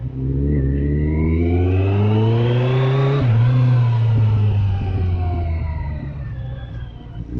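Kawasaki GTR1400 touring motorcycle accelerating hard, engine pitch climbing steadily through a gear, a brief dip at a shift, then rising again before easing off; loud and close with no talking.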